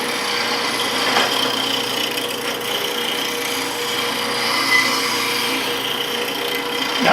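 A tool-sharpening grinder used on woodturning tools runs at speed with a continuous whirring hum and a faint rasping edge, holding steady and fairly loud from start to finish.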